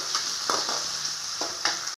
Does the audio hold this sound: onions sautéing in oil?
yes